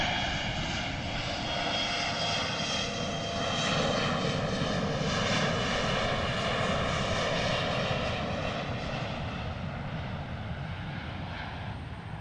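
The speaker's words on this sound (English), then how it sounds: "That Embraer E175, awesome stuff from Portland." Embraer E175 jet airliner at Portland International Airport, a loud, sustained engine roar that swells slightly midway and holds steady with a droning whine, no voices.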